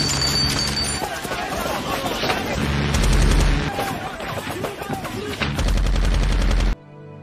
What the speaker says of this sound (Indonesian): datanglah tim penjemput yang langsung menghujani para musuh dengan peluru berkaliber besar